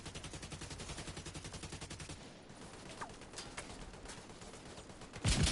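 Rapid machine gun fire in The Division 2 rattles in steady bursts for about two seconds, then sparse single shots and a louder blast at the end, with no talk.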